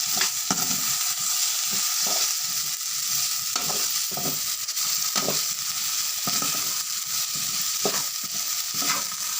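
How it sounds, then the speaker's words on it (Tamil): Potato rice stirred in a pan after a spoonful of oil is added, giving a continuous sizzle with rhythmic spatula scrapes about every second or so, close and fairly loud, with no speech. "ஒரு கரண்டி ஆயில் ஊற்றணும் ஊற்றி கிளறி விடணும்"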